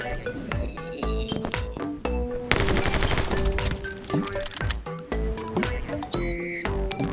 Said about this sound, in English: Here, I start shooting through the hole